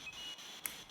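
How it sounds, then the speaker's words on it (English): Two short, high electronic beeps from the game Phasmophobia, the second a bit brighter, over a steady faint hiss of background noise. "You hear that beep?"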